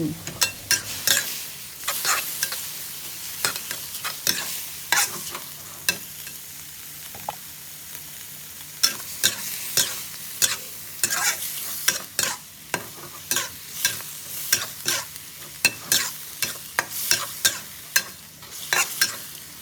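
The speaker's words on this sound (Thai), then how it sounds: "ผัดทุกอย่างให้เข้ากัน" Chicken with broccoli stir-fried in a pan with sugar, a steady sizzle broken by repeated sharp scraping and clacking of a spatula, close and fairly loud, in an irregular rhythm with no voices.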